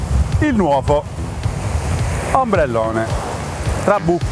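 Strong wind gusts across a beach where a fishing umbrella is set up, roaring steadily and buffeting the microphone under a man's close speech.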